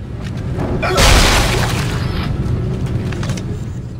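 A loud, booming explosion in Dead Space 2 bursts out, then a long crackling rumble fades with scattered debris-like clatter, no speech.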